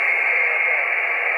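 Steady hiss of shortwave radio reception on the 20 meter band through a W6LVP magnetic loop antenna, a continuous noisy band of static with no clear voice standing out.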